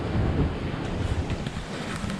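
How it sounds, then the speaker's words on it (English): Strong 16 to 18 knot wind buffets a sailboat on the open North Atlantic, a steady broadband roar with gusty swells and wind noise over the microphone, no voices. "at last we've gotten the wind, which we've been crying and begging for"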